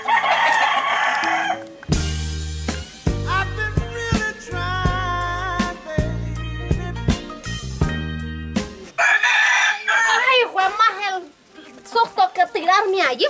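A rooster crows loudly and close by in a yard, with clucking fowl between long harmonic calls, while people talk and a voice is heard in the background.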